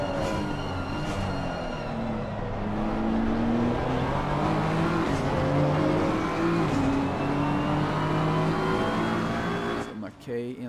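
A BMW race car engine in a night race at Laguna Seca in a racing video game, a loud sustained drone whose pitch climbs steadily through the gears, then drops off sharply near the end.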